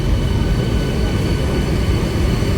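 A Sealdah–Krishnanagar AC local train at Dum Dum station gives off a steady, loud, broadband roar of wheels and carriages, unbroken throughout with no voices.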